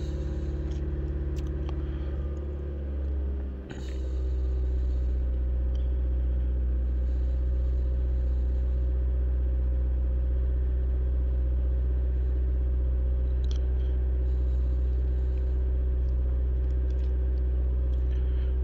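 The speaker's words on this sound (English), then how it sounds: "I'll just bring the RPM up" A Mitsubishi Lancer engine held at raised revs, around 2000 RPM, drones steadily with a strong low hum and a brief dip in pitch early on, then runs evenly and close by.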